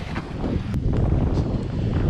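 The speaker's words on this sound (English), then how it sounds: "It's getting really windy right now" Strong gusts of wind buffet the microphone with a heavy, rumbling roar at a backcountry fly-fishing spot, while water laps faintly in the background.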